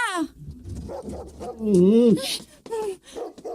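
A dog barking and whimpering during a rural Ilocano comedy scene, a few close yelps and a longer whining bark mixed in with excited people talking over it.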